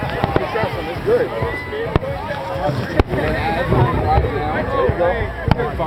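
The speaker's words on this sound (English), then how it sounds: "Fireworks." Fireworks pop and crack with irregular sharp bursts during a show at Waikiki Beach, heard from within a chattering crowd whose talk and voices run over the explosions throughout.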